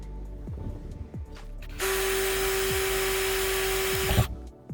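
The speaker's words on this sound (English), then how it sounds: "there's the hole that I've drilled in the roof" A power drill bores a pilot hole through a van roof while fitting a second MaxxAir roof fan, whirring loudly and steadily for about two and a half seconds before stopping, with quieter handling noises before and after.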